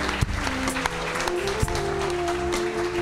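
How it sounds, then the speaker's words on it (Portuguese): Church congregation applauds during a service, a soft wash of clapping with a few sharper claps standing out, set under sustained musical tones. "Você pode dar um aplauso ao Senhor?"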